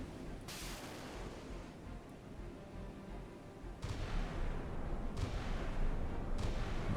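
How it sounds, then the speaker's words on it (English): Incoming missiles and weapons fire in the naval combat game Sea Power sound as several faint, distant booms and impacts that arrive at irregular intervals over a low rumbling background. "There are a lot of missiles incoming."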